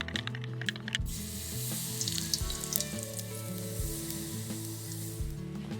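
Yorkshire pudding batter sizzling in hot fat inside an Ooni pizza oven for a roast dinner, a steady loud frying hiss with a few soft stirring scrapes throughout.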